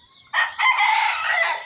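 A rooster crows once nearby in a quiet morning garden, a loud, clear, drawn-out call after a brief faint note.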